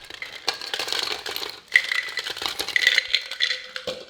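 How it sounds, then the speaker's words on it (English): Nordic ice poured into a cocktail shaker cup holding gin, close and fairly loud: a steady stream of clattering, rattling cubes lasting about four seconds, with one sharper knock midway. "Next he pours the rest of his Nordic ice into the shaker cup."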